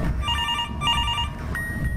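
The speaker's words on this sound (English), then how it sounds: "Oh, why is the phone ringing?" Telephone ringing in the horror video game Mr. Hopps Playhouse: a steady electronic ring with bright harmonic tones that repeats in two-part bursts, loud and close over a low background rumble.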